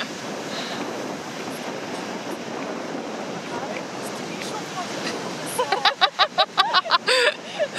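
Surf rolls continuously onto an Australian beach as a broad, steady wash, with a burst of rapid clicks or claps near the end and voices murmuring faintly underneath.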